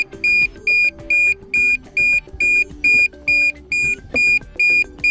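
Notification beeping from a DJI Air 2S drone controller connected to a phone by USB-C cable, a loud, steady series of about a dozen evenly spaced short electronic beeps repeating every half second, with no talk.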